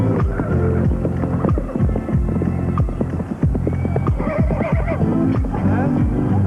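Arabian horses on a horse farm give a busy run of close hoof thuds with occasional whinny-like calls over a steady low hum, and voices are faintly present.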